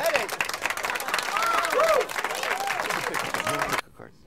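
Audience applause follows a magic trick, with a crowd clapping steadily while a performer's voice and whistled or sung tones run over it, cutting off abruptly near the end.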